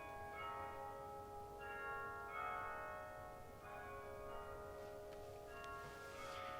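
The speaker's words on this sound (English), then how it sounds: "There's the bells behind me." Church bells ring at a distance at Bok Tower Gardens, Lake Wales, their tones overlapping and sustained above a steady low background hum.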